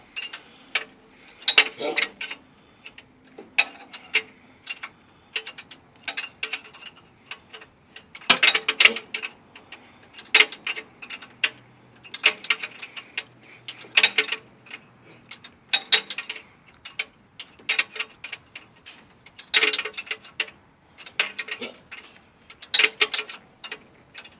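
Ratcheting wrench clicks while a stiff bolt is worked loose on the distributor of a Fiat 500, rapid close metallic ticking in irregular bursts separated by short pauses.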